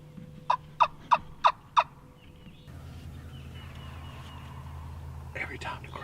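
Wild turkeys gobbling in the woods of the Carolinas: five loud gobbles in a quick, even series, followed by quiet whispering voices over a low background hum.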